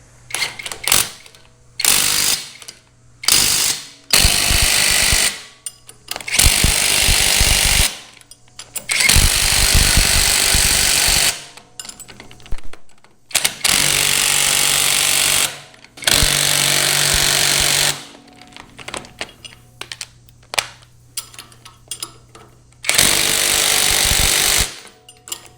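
Power tool tightening parts on a Wolfe Ridge 22 RS rifle during a bronze slide set replacement, running in repeated loud bursts of a few seconds each, separated by short pauses, with no talk.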